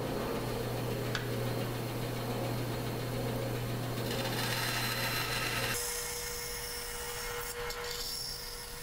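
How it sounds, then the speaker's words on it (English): A bandsaw hums steadily nearby while wood is fed through to round over corners and edges, the motor tone shifting partway as the cut changes, with occasional light ticks. "So here we're at the bandsaw now."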